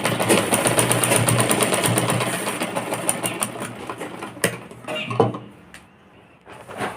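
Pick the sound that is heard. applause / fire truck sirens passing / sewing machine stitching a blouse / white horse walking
sewing machine stitching a blouse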